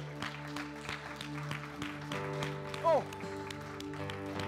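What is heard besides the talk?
church congregation clapping hands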